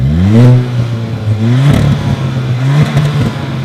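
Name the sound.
turbocharged hatchback car exhaust revving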